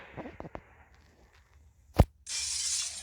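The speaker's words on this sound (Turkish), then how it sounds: "Az önce bir cam kırıldı." Glass shatters in a Roblox game with one sharp loud crash, followed by a sustained bright hiss like rain; a few faint thumps come before, and no one speaks.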